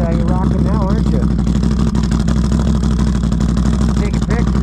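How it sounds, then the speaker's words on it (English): A Can-Am Outlander ATV engine, in a burnt condition, idles steadily with a throaty exhaust note held at one level throughout, close and loud, while people talk over it. "that's a nice sound of exhaust system"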